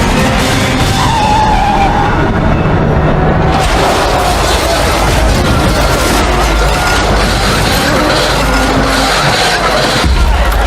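A race car driver's LC70 race car tears down the Le Mans straightaway at 186 miles per hour during an endurance race, a loud, continuous roaring rush of engine and wind with a voice talking over it.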